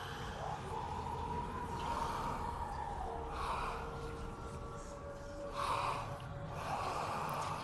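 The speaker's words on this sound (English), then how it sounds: "The thing's breathing." A head-like creature in a video game breathes in slow, heavy gasps and snorts, several loud rasping breaths repeating over a low droning ambience, with no talk.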